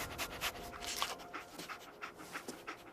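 Dogmeat, the dog companion in the video game Fallout 4, pants in quick, rhythmic breaths, quiet and close, with no talking.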